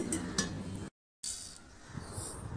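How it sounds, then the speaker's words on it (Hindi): Mustard seeds hit hot oil in a pan for tempering, giving a close, crackling sizzle with a few pan clinks, briefly cut by a dropout of silence before the frying resumes more softly. "अब एक पैन में हम तड़के की तैयारी करेंगे, जिसमें हम ऑयल डालेंगे, उसके बाद राई डालेंगे"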